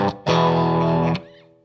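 An electric guitar runs through an effects unit set to basic reverb and ambience. A brief note leads into a loud, sustained chord that cuts off and leaves a short reverberant tail, with no talking.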